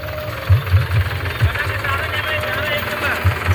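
A tractor engine chugs steadily on a potato farm by a roadside field, a low rhythmic knocking throb with occasional heavier thumps, fairly close and continuous throughout.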